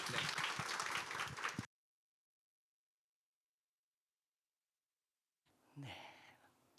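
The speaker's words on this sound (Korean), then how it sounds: "나오실 때 큰 박수로 맞아주시면 감사하겠습니다." Audience applause at a church workplace-mission academy admissions information session, a dense wash of clapping for about a second and a half, then silence, then a brief stretch of softer clapping mixed with a voice.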